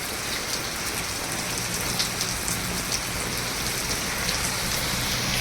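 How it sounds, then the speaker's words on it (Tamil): Heavy rain pouring down outdoors, a dense, steady hiss of drops on surfaces with scattered nearby splatters, continuous and loud throughout. "ஃபுல்லாக வந்து மழை"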